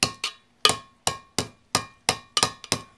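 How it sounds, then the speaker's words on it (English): Blunt end of a hammer banging down the sharp edges of an opened metal cat food can, about ten sharp metallic clanks in an uneven rhythm, close and loud, each ringing briefly. "I'm basically banging down the sharp edges. The sharp edges with the hammer."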